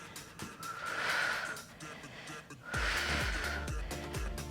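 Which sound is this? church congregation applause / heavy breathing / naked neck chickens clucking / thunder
heavy breathing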